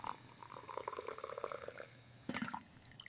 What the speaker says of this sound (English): I pour hot water.